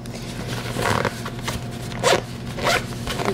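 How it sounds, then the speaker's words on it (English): A bag zipper being pulled shut in a home kitchen, with several short rasping zip strokes at close range and no talking. "And zip this up"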